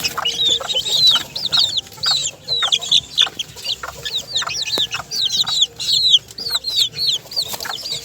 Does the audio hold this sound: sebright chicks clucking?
yes